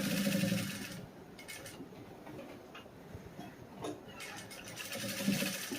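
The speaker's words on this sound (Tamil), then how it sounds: "ஒவ்வொரு இடத்துலையும் ஊசியை குத்தி துணியை முன்னாடியும் பின்னாடியும் வர மாதிரி டாக் அடிச்சு விட்டுட்டு அடுத்தது வைங்க" A domestic sewing machine tacks blouse fabric back and forth, producing a steady mechanical whirr with short bursts of stitching. The running is fairly close and continuous, with no voices.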